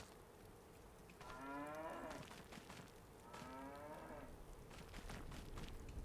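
Cows at an animal dealer's farm in Farming Simulator 25 low twice, two long separate moos, each over a second, heard over soft background ambience.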